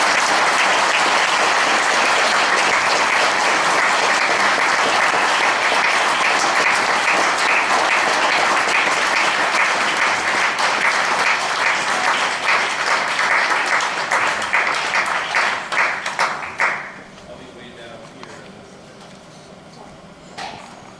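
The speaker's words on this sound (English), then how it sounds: "please give them a warm round of applause" An audience claps warmly as panel guests are introduced, with dense applause that thins into a few scattered claps and then stops abruptly, leaving quiet room tone.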